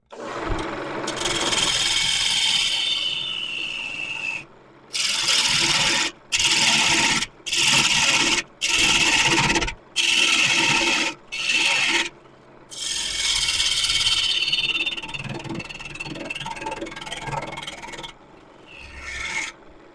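A turning tool rasps against spinning wood on a lathe: long scraping cuts, then a run of evenly spaced bursts separated by silent gaps, then longer steady cutting that fades toward the end.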